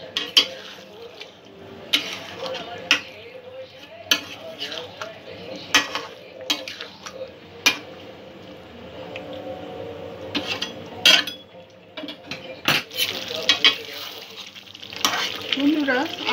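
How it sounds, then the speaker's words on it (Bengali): Potato curry (aloo dum) simmering with milk in a pan, with intermittent stirring scrapes and sharp clinks of a utensil against the pan over a soft, steady bubbling bed, close and moderately loud, no talking. "দু এক মিনিট একটু ফুটিয়ে নেব।"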